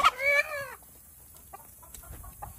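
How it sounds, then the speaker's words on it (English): A chicken lets out a short, loud series of clucking calls near the start, followed by quieter scattered pecks and small farmyard sounds. "What's up, chicken?"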